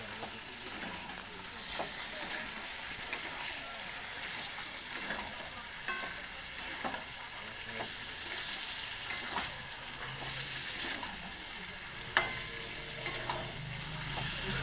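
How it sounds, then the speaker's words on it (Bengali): Mutton sautés in a pan with a steady, near sizzle, broken by occasional spatula scrapes and light knocks throughout. "এবার মাংসটা দেওয়ার পর ভালো করে কষিয়ে নিতে হবে।"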